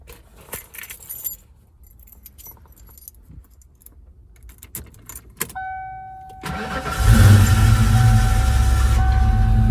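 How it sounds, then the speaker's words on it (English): A 1993 Ford Mustang Fox-body convertible's engine cranks briefly and fires up, settling into a loud, steady idle after quieter handling noises and jangling keys. "It'll turn over a bit before it fires up."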